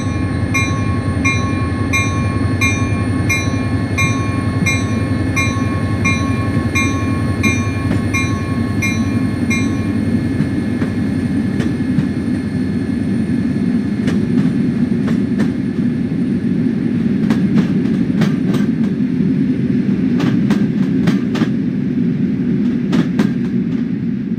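An EMD F40PH diesel locomotive on a Caltrain local service pulls out of Lawrence in Train Sim World 2. A loud, steady engine rumble builds under rhythmic clicking, and sharp wheel squeals and clanks come through later.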